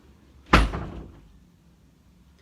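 A door is pushed shut with a single solid thud that rings out briefly in a quiet room.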